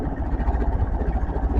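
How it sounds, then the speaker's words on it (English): A boat engine runs out on the water, giving a close, continuous low throbbing rumble with a fast, even pulse and no voices. "We got the engine running."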